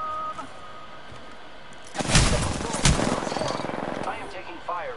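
Apex Legends gunfire breaks out in two loud bursts of rapid shots, followed by scattered quieter shots and game effects under a faint background hum.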